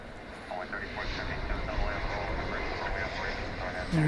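A Viva Aerobus airliner arrives at DFW Airport at night, its engines a steady, distant broadband roar that swells slightly near the end under continuous low background noise.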